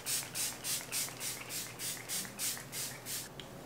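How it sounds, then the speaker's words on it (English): Rhythmic bursts of makeup setting spray, about a dozen quick pumps of a Bretman Rock Jungle Rock mister in steady succession, close and airy with no talking. "Set this off with the Bretman Rock Jungle Rock setting spray in the shade Doomy in the Jungle."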